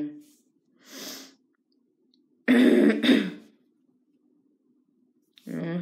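A few separate throaty coughs or throat clearings, close and fairly loud, with quiet pauses between them and no talking.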